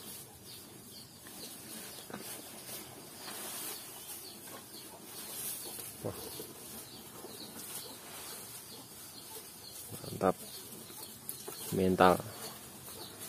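A rooster in a simple wooden village coop lets out a couple of short, raised clucks near the end, over a faint background of people talking.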